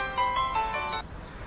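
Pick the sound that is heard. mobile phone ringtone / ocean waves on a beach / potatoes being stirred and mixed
mobile phone ringtone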